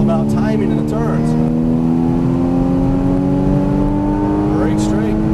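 An exotic sports car engine accelerating on a racing track, a loud steady high-revving drone that climbs in pitch and fills the whole stretch, with a driving instructor talking over it.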